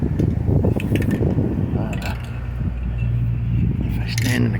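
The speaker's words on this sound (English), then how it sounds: "This wind is really killing me out here today." Gusty outdoor wind buffets the microphone with a loud, steady low rumble while someone applies a light coat during a plastic interior restoration on an OBS Chevy short bed truck; a voice talks over it.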